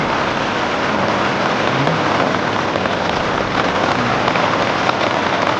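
Heavy, steady rain pouring down close by, a dense continuous hiss with no voices.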